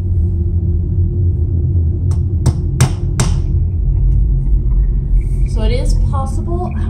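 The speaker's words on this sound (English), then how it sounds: "use the clothespin to hold the nail while you hammer." Four sharp, light hammer taps on tiny nails in quick succession over a loud low rumble, then a voice speaks.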